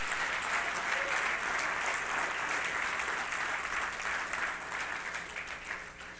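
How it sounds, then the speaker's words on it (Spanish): A church congregation claps loudly and steadily for several seconds as a dense, sustained wash of applause that tapers slightly toward the end. "Entonces dele fuerte el aplauso al Señor,"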